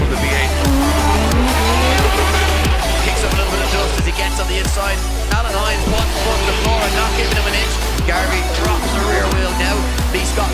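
V8 drift cars race side by side, engines roaring loud and continuous as tires squeal and skid through the corners, with a steady dense wall of motor and rubber noise and no pause throughout.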